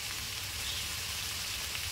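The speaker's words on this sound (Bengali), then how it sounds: "কাঁচা লঙ্কা বাটা, আদা বাটা ভালো করে কষিয়ে নেব।" Green chili and ginger paste frying in a pan for a hilsa curry in a village kitchen, giving a steady, dense sizzle that holds evenly close by the whole time, with no talking.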